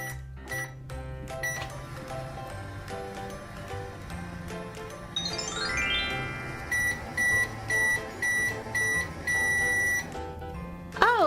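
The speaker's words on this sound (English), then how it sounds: "let's get Rocky in the microwave and see what happens" A toy microwave oven beeps in a run of short, evenly spaced electronic tones, clear and close. A rising sweep leads into them, and a final chirp ends the run. Soft background music plays underneath.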